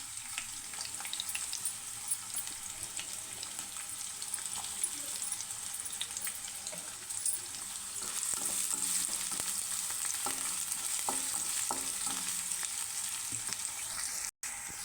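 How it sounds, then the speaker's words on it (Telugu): Green chillies and onions fry in hot oil with a bay leaf for a village-style country chicken curry. A steady close sizzle runs throughout, with light stirring taps and a sharp click near the end. "అది కొంచెం వేగిన తర్వాత పచ్చిమిర్చి ఆనియన్స్ వేసుకోవాలి."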